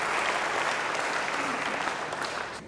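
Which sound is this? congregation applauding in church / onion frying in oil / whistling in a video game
congregation applauding in church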